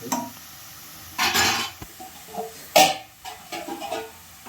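Masala-coated chicken tipped into fried onions in a pan, with a couple of loud bursts of sizzle and scraping as it lands, then lighter clinks and stirring sounds.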